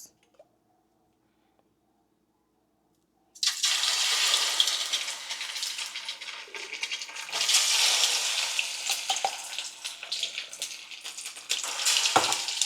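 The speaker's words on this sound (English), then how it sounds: "now I'm adding the tomato paste to begin on the rice" Tomato paste frying and sizzling in a pot for Nigerian party jollof rice, starting suddenly after a few seconds of silence and then hissing loudly and steadily up close, with occasional scrapes and clatters from stirring.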